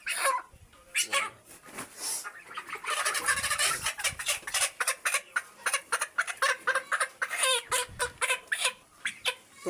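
Chickens cluck and squawk close by in a busy, overlapping flurry during beak trimming, followed by a quicker run of short rhythmic clucks.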